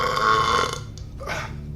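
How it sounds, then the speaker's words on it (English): A man lets out a loud, drawn-out burp at close range, full and rumbling, then it tails off into a brief softer gurgle with no talking. "Wait, I'm about to spray burp."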